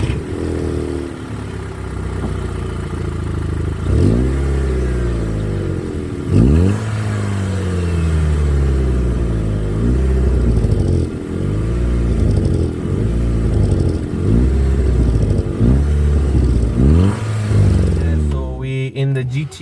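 2009 Volkswagen MK6 GTI accelerating on a drive, its engine climbing through gear after gear in repeated rising sweeps, with a dip at each shift, heard steadily from close by.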